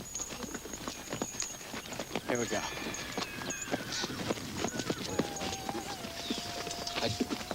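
Horses clip-clop along at a steady walking pace, a dense run of hoof knocks from close by, with people talking over it.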